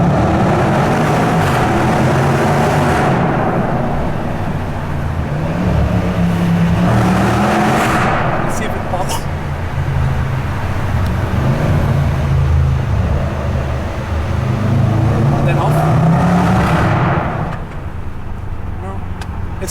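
A Range Rover SVR with a 550-horsepower engine accelerating, loud and close, with repeated revving swells rising and falling over about twenty seconds, its deep exhaust roar filling the space while people talk inside the car.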